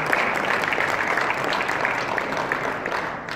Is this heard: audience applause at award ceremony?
yes